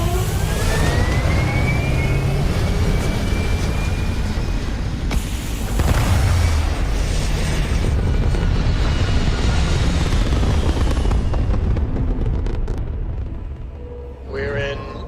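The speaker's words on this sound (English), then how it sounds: "We have liftoff." Spaceship liftoff in the video game Starfield, a sustained loud engine roar and rumble building over several seconds and then fading, with a person talking over it.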